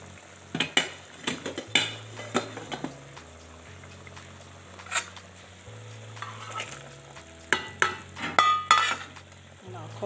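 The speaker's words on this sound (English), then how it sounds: "So at this point, I'm going to add in my already boiled beef." Boiled beef goes into a simmering vegetable-egg soup pot, with clattering spoon and pot knocks, scraping stirs and a low sizzle, mostly near and intermittent, over a steady low hum.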